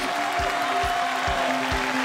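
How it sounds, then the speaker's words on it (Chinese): A studio audience claps at a stage show of Shaanxi farmers' drumming, a dense, steady wash of clapping with regular low thumps beating underneath throughout. "掌声不够热烈"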